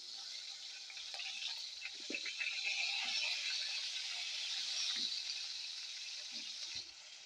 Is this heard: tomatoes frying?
yes